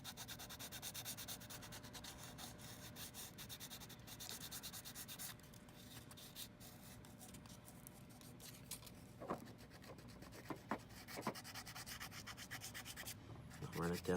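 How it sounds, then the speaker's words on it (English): Sandpaper rubbed back and forth along a seam line on a Moebius Batman plastic model kit, a steady close, quiet scraping that runs throughout with a few sharper scratches near the end. "I'll just take the sandpaper and run it over this edge."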